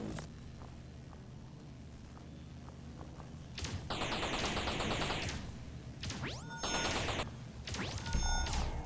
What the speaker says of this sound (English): Turrets are helping a little, but they're not strong turrets.